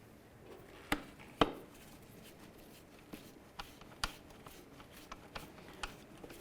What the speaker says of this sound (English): Then we'll reinstall our retaining screws.